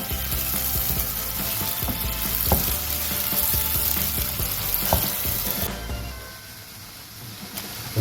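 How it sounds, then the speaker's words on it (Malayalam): Onions frying over full heat in hot oil for Kerala ghee rice, a dense steady sizzle with crackles throughout, easing after about six seconds, no talking. "ഇത് ഫുൾ തീയിലിട്ട് നമുക്ക് വറുത്തെടുക്കണം അല്ലേ?"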